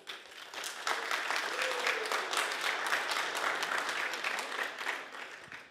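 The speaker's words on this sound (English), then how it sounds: "A massive round of applause for Javid and Sven." A conference audience at Umbraco Codegarden 2022 breaks into warm, continuous applause, the clapping rising quickly, holding at an even level and easing slightly at the end, with faint whistles or cheers mixed in.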